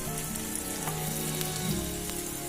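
Mughlai paratha frying in oil in a wok, a dense continuous close sizzle with a low hum underneath and no voices.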